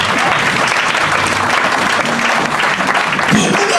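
A church congregation claps together in steady, dense applause that fills the room, with faint voices mixed into the clapping throughout.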